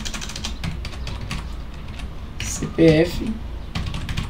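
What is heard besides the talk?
typing on a computer keyboard in Google Sheets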